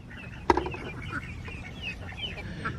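Buff Orpington chickens cluck softly nearby, with a sharp cluck near the start and faint chirpy calls continuing.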